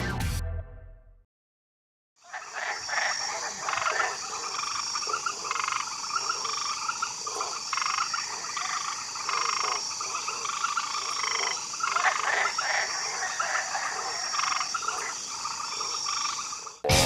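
Dense chorus of frogs croaking alongside chirping insects at night on the California Delta, a continuous layered pulsing texture after a brief silent gap, fairly even and moderately loud with no voices.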